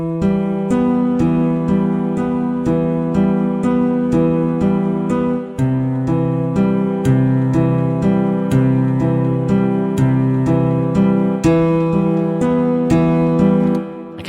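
Layered Arturia Augmented Grand Piano presets, one warm and one thin, play together as a steady stream of struck chords and repeated notes, full and loud, with no talking.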